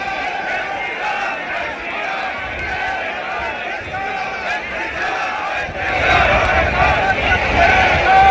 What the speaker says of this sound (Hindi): भीड़ काफी ज्यादा है।